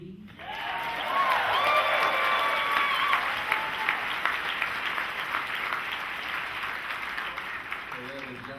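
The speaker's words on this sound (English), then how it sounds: "round of applause" Sustained applause from a large convention panel audience at Dragon*Con, a dense roar of clapping with some cheering and whistles that swells quickly and holds steady before easing, with a voice briefly audible near the end.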